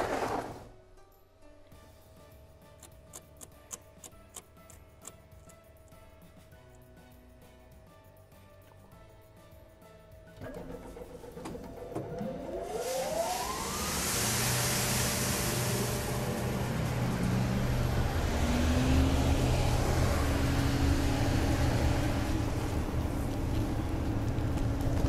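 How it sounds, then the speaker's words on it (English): A Kongskilde KIA aspirator blower runs with a mechanical hum, then its airflow swells into a loud, steady rushing roar as the blower setting is raised, with a rising whine sweeping up partway through. "we will change the blower setting from 300 to 600"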